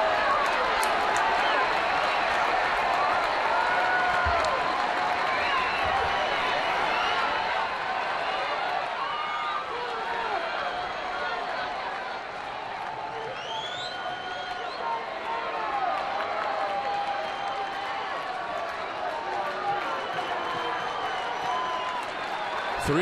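Ballpark crowd at a Tampa Bay at Boston game applauding a long at bat, a broad, steady wash of clapping and murmur that carries on throughout, with voices mixed into the din.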